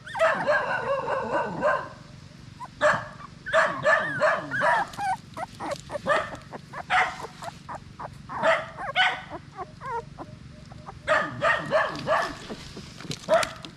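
Mother dog and her four young puppies barking and yipping in bursts, close and loud, with high whimpers between barks.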